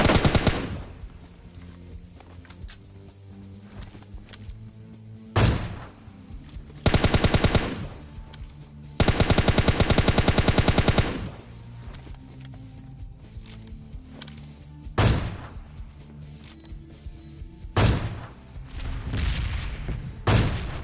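Gunfire in PUBG Lite: sharp single shots ring out alongside two long bursts of rapid automatic fire, loud and close, with quieter gaps between them.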